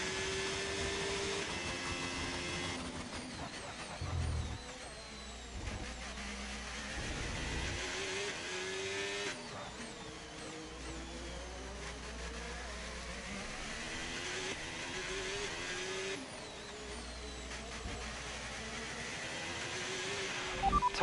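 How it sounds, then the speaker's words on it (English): Formula 1 car in the F1 25 video game at the Singapore circuit: a steady, loud high engine whine rising and falling through gear changes and revs across the whole stretch, with no talk. "Even with my careful driving, I'm still catching up to Behrman"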